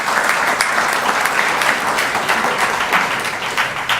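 A live audience claps steadily and loudly, a dense unbroken wash of many hands lasting the whole stretch.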